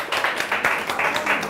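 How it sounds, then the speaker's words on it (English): A crowd at a Women in Politics event applauds, with quick, rhythmic clapping that lasts only a moment and is fairly close. "Give yourselves a round of applause, please."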